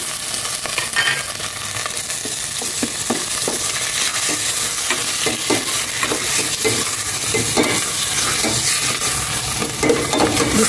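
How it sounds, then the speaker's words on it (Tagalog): Pork sautéing in a hot pan, with a steady loud sizzle and frying hiss throughout and repeated stirring scrapes and clanks from a utensil, no talking. "Gisa ko itong maigi."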